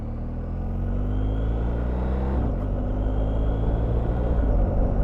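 A BMW GS motorcycle rides off road over slippery wet leaves, a loud, close engine rumble that shifts pitch about halfway through, as if changing gear, then carries on steadily.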